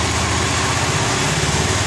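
A small motorcycle engine idles steadily after its fuel injector has been cleaned, a close, even, buzzing putter with no talk over it.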